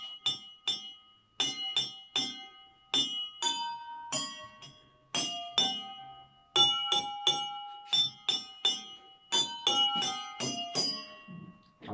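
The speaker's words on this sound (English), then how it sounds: "the sound produced from the glass changes for different water levels" Water-filled drinking glasses struck one after another play a song, each strike a clear bell-like ringing note at a different pitch, in a steady melodic rhythm, close and bright.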